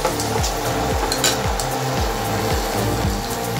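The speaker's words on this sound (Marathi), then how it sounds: "टोमॅटो हे आपण छान परतून घ्यायचं आहे" Tomatoes being sautéed in a pan for palak paneer, giving a loud, steady, close sizzle with rhythmic sweeping scrapes of the spatula repeating about twice a second, with no talking.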